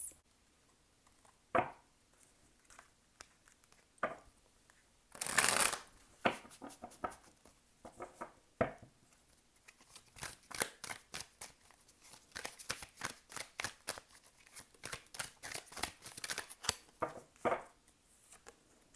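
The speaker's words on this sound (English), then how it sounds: "let's go ahead and look at your tarot cards" Tarot cards being shuffled by hand: scattered soft riffles and flicks early on, then a dense run of quick rhythmic card snaps, close and fairly quiet with no talking.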